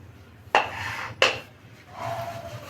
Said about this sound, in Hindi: सबको मिक्स कर लेंगे। बराबर चलाते हुए मिक्स करेंगे।